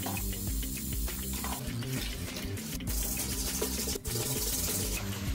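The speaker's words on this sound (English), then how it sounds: "One last rinse. Now the hot water is bringing out sort of stuff." Hot tap water runs steadily while a greasy kitchen range hood filter is rinsed, a continuous close gushing and splashing that changes texture as the stream hits the metal mesh, with no talking.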